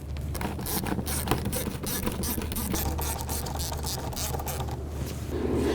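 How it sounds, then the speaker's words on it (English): An 8mm socket ratchet loosens a hose clamp in the engine bay of a 2004-2009 Dodge Durango. Quick rapid clicks repeat in bursts, close up, over a low steady hum. "Using an 8mm socket, we're going to go ahead and loosen this hose clamp here, and this one right here."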